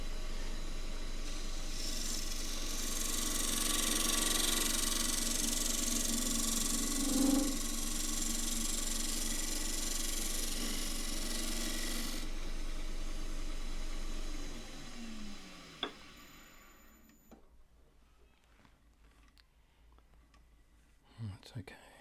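A scraper works the inside of a Tasmanian sassafras rectangular bowl spinning on a wood lathe, giving a steady broadband hiss that stops abruptly, leaving quiet with a few faint taps.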